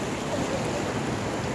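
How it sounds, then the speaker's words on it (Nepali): A large river flowing in Nepal, with dense rushing water noise rolling steadily and loud, close by, with no talk over it. "खतरा छ नि खोला त"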